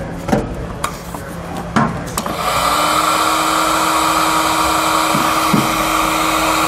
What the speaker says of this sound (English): And then we'll take our heat source and we'll shrink both of those up.